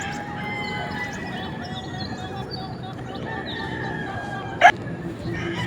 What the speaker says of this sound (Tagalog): yung broodcock dito sa aking backyard, yung 2 times winner